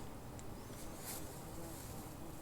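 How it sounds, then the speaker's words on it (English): A bumblebee buzzes faintly among flowers in a garden, a soft steady drone against quiet outdoor background, with no one speaking. "That is a bumblebee."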